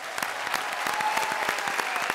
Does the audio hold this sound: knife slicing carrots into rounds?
no